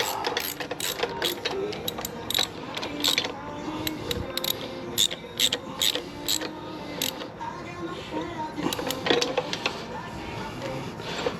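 A hand ratchet clicks in quick, uneven bursts while tightening a bolt on a 1984 Harley-Davidson FLT, close and crisp, with a faint voice and light workshop clatter in the background.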